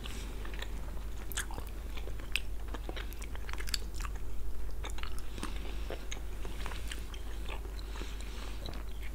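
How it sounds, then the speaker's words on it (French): Close, wet chewing with repeated sharp crunches and clicks of hard candy breaking between the teeth, steady and uneven in rhythm. "on mange un peu la bouche ouverte pour que vous entendiez les bruits"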